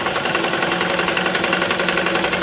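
Electric sewing machine running steadily while stitching along the folded edge of a cloth bag made from old fabric, a continuous close whirring buzz with no pauses and no voices.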